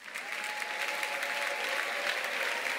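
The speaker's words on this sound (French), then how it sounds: "Est-ce que nous pouvons encore acclamer Jésus?" A church congregation applauds at a Sunday service, with steady, dense clapping that carries evenly through the whole stretch and no clear voices on top.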